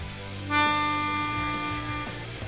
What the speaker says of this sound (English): D sounds like this.